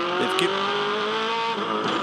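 Onboard a V8 Supercar during a race, the engine drones steadily at high revs with a held pitch that dips near the end, loud and close, with brief tyre and gear noises over it.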